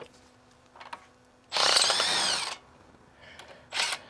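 An impact wrench works the wheel bolts on a widebody Alfa Romeo Giulietta being fitted with new wheels and brakes, one loud sustained burst of about a second, then a shorter burst near the end after quieter tool noise.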